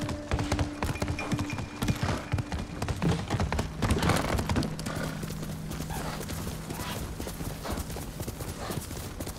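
Rhythmic clip-clop of horse hooves trotting steadily in Ghost of Tsushima, with a brief whinny, set against a busy background of game ambient sound.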